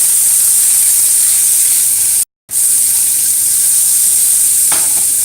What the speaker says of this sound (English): And then to this, I'm adding my broccoli. Yeah, I'll show you how quick this stir fry is gonna be.